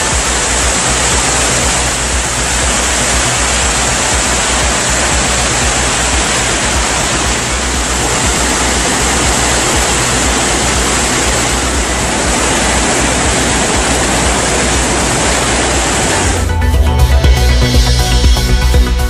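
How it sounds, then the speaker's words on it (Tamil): Kumbakkarai falls in Theni in flood after heavy rain, a loud unbroken roar of churning water that fills the whole stretch, then ends abruptly. "கனமழையால் தேனி கும்பக்கரை அருவியில் வெள்ளப்பெருக்கு"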